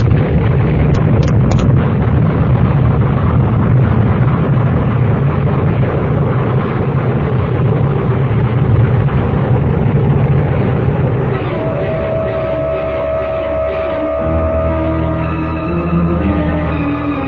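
A dense, loud explosion roar fills the scene, a continuous heavy rumble of blast and debris that keeps going, then thins into a lingering ringing rumble near the end.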